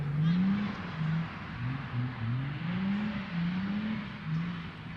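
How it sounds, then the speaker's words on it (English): A rough-sounding car engine drones and shifts pitch as it passes nearby, steady and fairly loud for several seconds, with no voices over it. "Somebody's shitty car."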